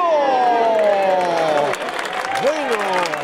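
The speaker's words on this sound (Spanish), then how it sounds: "Aplauden el respetable" Spectators at a football match between Comercio and Prat applaud as a broad, distant crowd wash, with a commentator talking over it the whole time.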